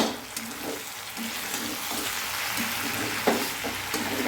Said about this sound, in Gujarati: મિત્રો, ફરી 2 મિનિટ જેવું થઈ ગયું છે અને આપણે ફરી એને હલાવીએ છીએ.